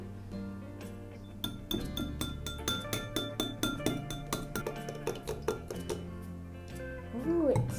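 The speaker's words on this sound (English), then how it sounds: "now it's time to whisk it up" Chocolate mochi batter being whisked in a bowl, a fast run of bright clinking taps that repeat rhythmically for several seconds, close and clear, with a voice speaking briefly near the end.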